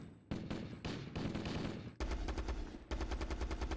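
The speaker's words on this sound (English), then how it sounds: "This is some interesting audio from some of these weapons." Weapon fire from a Halo Reach mod in a video game plays as loud, dense bursts of rapid gunshots, with the first sequence giving way to a faster, harder-hitting automatic volley, no voices present.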